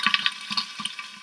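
Washed curry leaves hit hot oil in an Instant Pot, giving a few sharp sputtering splashes and crackles in quick bursts, close and moderately loud.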